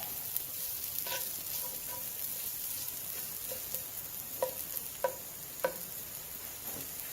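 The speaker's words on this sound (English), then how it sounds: "We're going to let those onions kind of cook down for a minute." Onions sizzle and fry in a cast iron pan on a grill, a faint, steady hiss broken by occasional soft ticks and pops from the pan.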